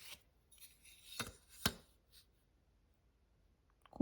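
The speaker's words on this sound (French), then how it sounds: "couper la partie ici." Scissors cutting paper for a handmade tea box: a few crisp snips and rustles in a quiet room, then a louder handling sound at the end.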